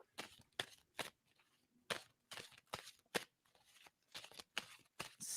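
Playing cards shuffled over and over at close range, giving a run of quick, crisp riffling bursts separated by short pauses.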